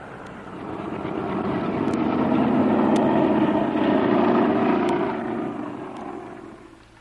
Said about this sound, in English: Rapidly, the graceful airliner taxied down the runway and was soon climbing skyward.